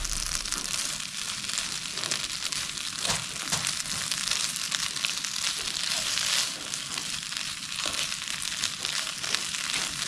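Rehydrated dehydrated potatoes frying in a pan on a backpacking stove, giving a steady crackling sizzle with small pops throughout, fairly close and with no talking.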